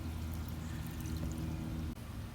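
Water pours steadily into a container for a homemade liquid fertilizer mix, making a continuous, close rushing splash that cuts off briefly near the end before resuming.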